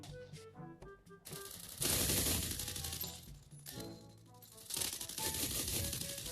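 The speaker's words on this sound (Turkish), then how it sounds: "Bak o da duvarın arkasından sıkıyor sanırım." Rapid automatic gunfire in a game, enemy fire from behind a wall, bursts of dense crackling shots in two loud waves over layered game music and effects, no voices.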